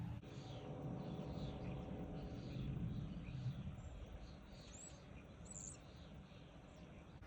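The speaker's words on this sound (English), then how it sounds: "With these birds, they're so loud." Birds call and chirp repeatedly in the distance at a campsite by the Buffalo National River in the Arkansas Ozarks, over a low steady rumble, with no talking.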